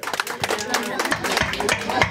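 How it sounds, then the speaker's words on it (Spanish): Guests clap at a birthday party, with uneven, close handclaps mixed with lively chatter and voices over a short stretch. "¡Fuerte los aplausos allá para la festejada"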